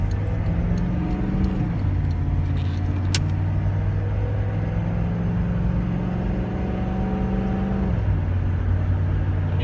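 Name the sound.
GMC Suburban diesel engine running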